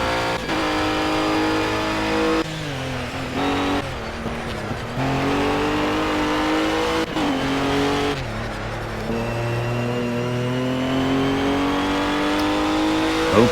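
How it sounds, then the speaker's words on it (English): A Ginetta G55 GT4 race car in Project CARS, racing GT4 cars at Oschersleben, screams through the gears close up, with steady high revs broken by several sharp downshifts and re-accelerations, loud and continuous with no talking. "A 4-lap race with GT4 race cars. In a nice Ginetta G55 GT4."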